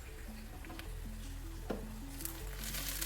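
Shallots and chilies sizzling gently in a pan while being stirred for a dal spinach curry, a soft continuous crackle with occasional light scrapes, fairly quiet, no voices.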